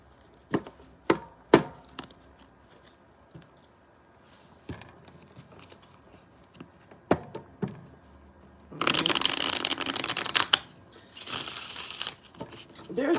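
Tarot cards are handled and shuffled for a reading: scattered soft taps and flicks, then two dense riffle bursts, close and quiet with no voice over them.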